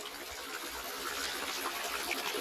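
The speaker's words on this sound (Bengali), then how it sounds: "এই পানিগুলাই এই যে এখান থেকে আস্তে আস্তে সামনের দিকে যাচ্ছে, এটাই ঝর্ণায় রূপান্তরিত হচ্ছে" Water flows steadily at the source of a mountain waterfall high on a hillside, a close, continuous rushing trickle with no voices.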